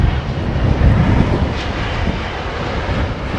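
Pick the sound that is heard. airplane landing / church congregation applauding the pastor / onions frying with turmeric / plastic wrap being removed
airplane landing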